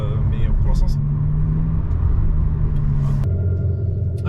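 An electric Abarth 500 gives off a deep, loud rumbling gurgle up close, with a voice talking over it and a sudden shift in tone near the end.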